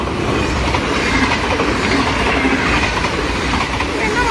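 A train passes through Susteren in the Netherlands, a steady, close rumble of wheels on rails with rhythmic clatter sustained throughout, loud and continuous with no clear talking.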